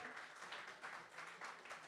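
Audience clapping at a live art creative showcase evening, a faint, steady patter of many hands that swells slightly in waves.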